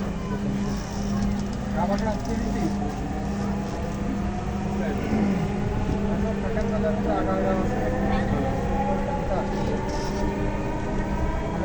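A Dhaka metro rail train runs between stations, its electric motors whining in rising tones over a steady rumble of wheels on track while a recorded announcement voice speaks over the noise.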